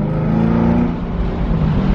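A 2018 Chevrolet Camaro ZL1 engine drones steadily at close range while driving, a continuous deep rumble holding even through two seconds with no one speaking.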